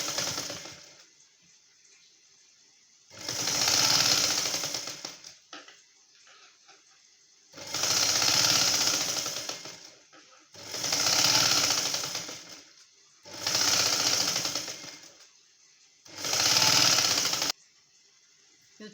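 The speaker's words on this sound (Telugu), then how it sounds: "మెడ చుట్టూత కుట్టు వేసుకోవాలి" A sewing machine stitches around the neck piece of a prince cut blouse in five loud bursts of whirring, each a second or two long, separated by short quiet pauses, with no talk.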